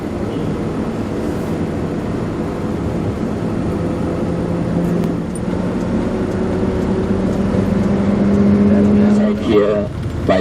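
A car drives along a road through village and rice-field country in Sri Lanka, with a steady engine and road rumble heard from inside the vehicle and a faint tonal whine rising near the end.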